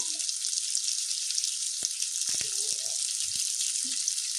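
Potatoes frying in hot oil give off a steady bright sizzle close up, broken by a few soft knocks and brief stirring sounds, with no voices.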